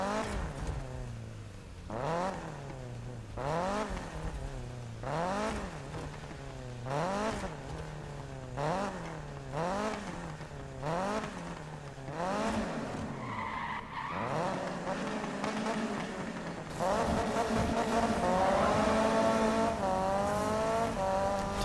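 Ford car in the Need for Speed racing game, engine revving up and down in a steady rhythm through corners with tire squeal and skidding, then a sustained higher engine drone, moderately quiet.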